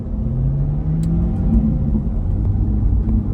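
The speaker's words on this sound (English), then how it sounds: "Oh, it is running rough." Inside a moving Chevrolet Corvette C8 with an engine fault, a deep, uneven rumble drones steadily and loudly while the car drives along.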